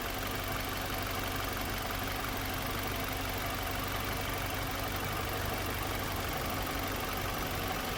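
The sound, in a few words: car engine running during a test drive after a transmission flush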